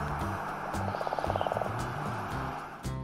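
A frog croaks in a short, close call of rapid pulsed rattles, set among low rhythmic throbbing notes, all quiet and clear with no voices.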